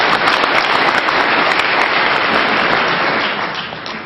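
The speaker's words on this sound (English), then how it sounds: "go ahead and give yourself a round of applause" An audience at a University of Texas lecture applauds, a dense, loud wash of clapping that holds steady and then fades slightly at the end.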